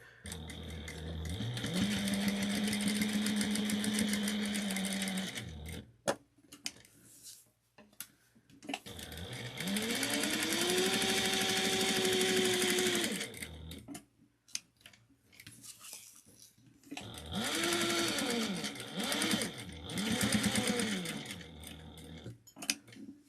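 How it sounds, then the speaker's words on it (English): A sewing machine bastes fabric pieces of a wristlet together in three separate whirring runs with short pauses between them. It is heard up close and alone. "We're going to kind of just baste this whole piece together."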